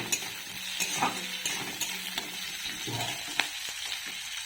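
Meat curry cooking in a pot, a steady sizzle with intermittent spoon stirring and scraping scattered across the clip, fairly close and alone without voices.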